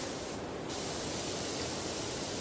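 A power washer in PowerWash Simulator sprays steadily while cleaning a helicopter, giving a loud, continuous hiss that briefly shifts in tone, with no talking.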